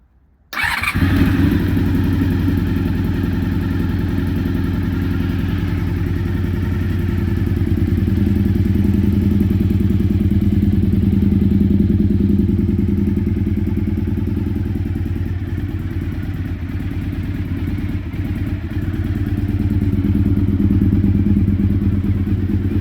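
A Honda VFR400 NC30 motorcycle, freshly restored, fires up and settles into a steady, loud, close idle with a deep rumbling drone that holds for about twenty seconds, slightly rising and dipping.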